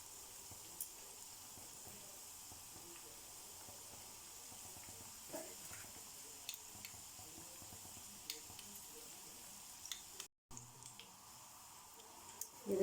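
Chicken vegetable bread rolls deep fry in hot oil with a soft, steady hiss and faint scattered pops and crackles, quiet and continuous, with no one speaking over it.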